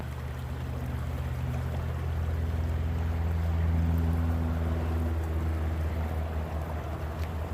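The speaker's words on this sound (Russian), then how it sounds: "Шумит ручей." Steady rushing water of a stream, a continuous loud burble with no voices.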